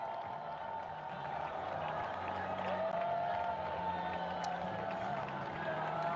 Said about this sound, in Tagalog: Pumapalakpak yung ibang pulis, hindi natin alam kung bakit